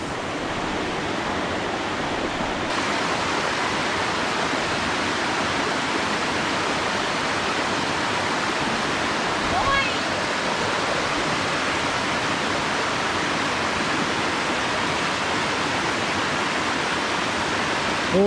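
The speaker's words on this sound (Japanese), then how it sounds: "滝見物。" A waterfall in a mountain stream valley roars steadily, a constant, full wash of falling water with no pauses and no voices.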